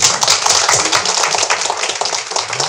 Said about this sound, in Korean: 이 박수는 박정희 대통령한테 보내는 박수입니다